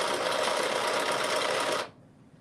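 A sewing machine stitches a knit sleeve band onto a long-sleeve top at a 5/8 inch seam, a steady close whir running without a break before stopping abruptly near the end.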